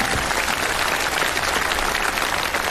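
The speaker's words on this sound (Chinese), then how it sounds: "好吧，为他们加油鼓掌。" A studio audience at a televised music show applauds in steady, dense clapping that fills the whole stretch evenly, with no voices standing out.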